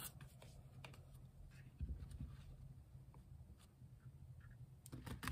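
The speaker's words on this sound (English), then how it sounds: "Some shuffling." Soft, quick riffling and tapping of tarot cards being shuffled, faint and close, in irregular bursts with a few sharper slaps near the end.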